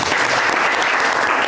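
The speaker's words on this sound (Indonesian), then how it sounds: "Kasih tepuk tangan." Students in a classroom clap together loudly and continuously, a close, dense burst of hands lasting under two seconds.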